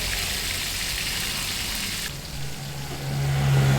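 Shrimp and jengkol sambal sizzles steadily in a frying pan while being stirred, a constant crackling hiss that thins out partway through before a low hum rises near the end.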